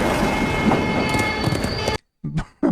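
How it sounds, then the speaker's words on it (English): Loud rumbling roar of a passing train in a movie scene, continuous for two seconds before cutting to near silence and a brief low thump. "the train is coming"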